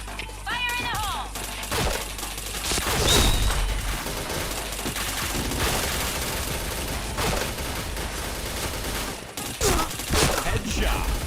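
Rapid bursts of gunfire in a shooter video game, loud and dense throughout with crashing impacts, while a person talks over the action.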